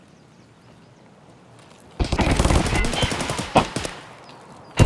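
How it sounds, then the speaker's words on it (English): Gunfire in Escape from Tarkov: a sudden burst of many loud, rapid shots after a quiet stretch, with a few louder cracks standing out and a brief spoken exclamation. "Oh, somebody shot me from the side."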